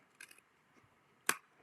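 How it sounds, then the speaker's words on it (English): Snips cutting through a Christmas card give two quick, crisp snipping sounds: a faint one first, then a sharper, louder cut about a second later, close by in a quiet room. "So now I'm going to take my snips. I'm going to cut that off."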